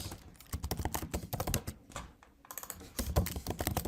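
Rapid clicking of a computer keyboard, close up, in dense bursts of keystrokes with a short pause in the middle before typing resumes.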